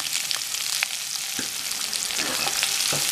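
Sliced big onion and green chili sizzle in hot oil with cumin seeds in a pan, a close bright crackle with occasional stirring scrapes and no talking.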